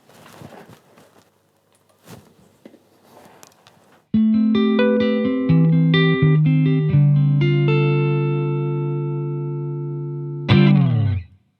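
Clean electric guitar through a Fender Blues Deluxe amp with the bright switch on, starting with faint scratchy noises, then ringing plucked notes and chords that sustain and decay before a final strummed chord, close with no talk.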